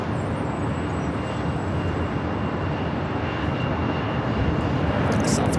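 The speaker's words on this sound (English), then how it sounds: "Southwest Airlines flight coming in from Sacramento" A passenger airliner on approach to Los Angeles airport, a Southwest Airlines flight arriving from Sacramento, roars steadily and loudly throughout, a broad continuous jet engine rumble with no voices.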